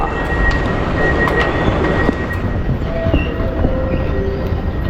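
A Riyadh Metro train rumbles loudly through a tunnel, with steady roaring noise, faint wheel squeals and clanks, and no talking.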